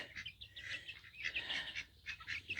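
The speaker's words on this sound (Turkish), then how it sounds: "Ördeğimiz böyle" A pet duck on a small hobby farm gives repeated quacking calls in short bursts, fairly near and moderately loud, with no voices over them.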